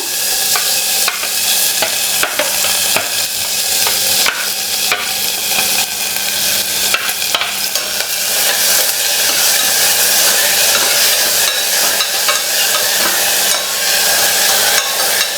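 Chopped onion, ginger and green chili with curry leaves sizzle steadily in a hot pan, loud and close, with repeated scraping stirs throughout and no talking.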